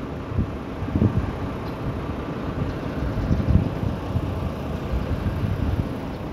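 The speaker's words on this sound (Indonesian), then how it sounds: "Pagi ini Jogja berawan mendung, banyak angin, dan ini anginnya dingin." Steady low rumbling wind buffeting outdoors, a continuous broadband roar with gusty swells and no talking.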